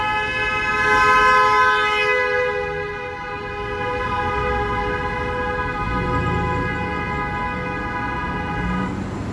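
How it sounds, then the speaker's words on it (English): A train's horn blows one long, prolonged honk on a Toronto city street after sunset, loud and sustained for about nine seconds with a steady stacked tone over a low traffic rumble. "that was quite the extremely unnecessary long prolonged honk"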